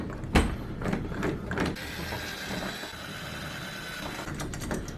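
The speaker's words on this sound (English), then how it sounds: "You're going to unscrew these two bolts." Powered screw gun backing out the two bolts of a doorknob, a close mechanical whirring and ratcheting with a sharp knock near the start, bursts of driver noise, and a sustained buzzing run through the middle, no talking.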